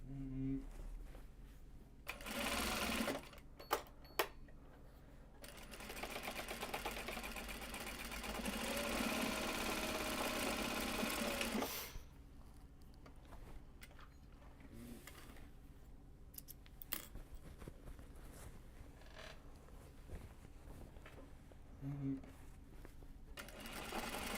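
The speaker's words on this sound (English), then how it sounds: "we need to wind the next bobbin. So I'll start that here when I start this guy." A sewing machine runs while winding a bobbin during work on large box bags, stitching in a short burst and then a long steady whir before stopping, with quieter clicks and handling noises around it.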